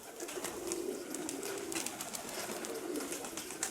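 Soft, low coos of Mykolaiv pigeons repeat in a gentle rolling rhythm, close by, with light background rustling and no talking.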